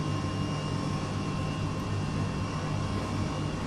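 A steady, even engine and rotor drone from an H135 helicopter in Microsoft Flight Simulator flying over Sydney. It holds unchanging and continuous throughout at moderate level.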